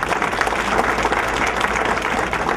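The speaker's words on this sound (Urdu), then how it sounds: "تو بھرپور تالیاں ڈاکٹر صاحب کے لیے" A seated audience at an interview event claps loudly and steadily for a doctor, a thick continuous wash of many hands with no talk.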